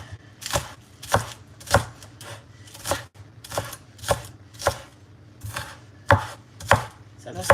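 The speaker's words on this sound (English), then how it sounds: "So now I'm just cutting up my green onions." Knife chopping green onions on a cutting board, about a dozen crisp, unhurried strokes at a slow, slightly uneven pace, close and clear with no talking.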